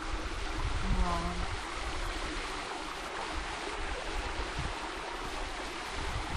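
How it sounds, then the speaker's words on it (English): Steady broadband rushing of Hemmed-in Hollow Falls, a waterfall swaying side to side in the wind, continuous and fairly loud, with wind buffeting the microphone throughout. "that waterfall's been moving side to side because of the wind"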